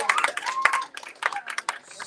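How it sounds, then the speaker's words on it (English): Audience clapping at an open mic night, a short burst of scattered claps mixed with loud talking and cheering voices close by. "Can y'all clap it up for my friend?"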